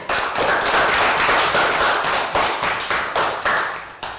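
A Year 3 class gives a round of applause in a social studies lesson, loud uneven claps from several children in short bursts that thin out and stop after a few seconds.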